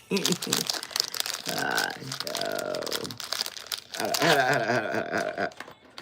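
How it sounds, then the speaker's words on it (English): Plastic bag crinkling close up in rustling bursts, while a person talks over it. "You heard a plastic bag."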